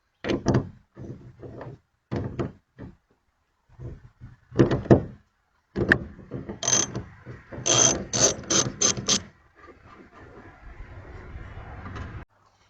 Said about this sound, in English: Now for this I'm going to be using a 1-inch socket, which will work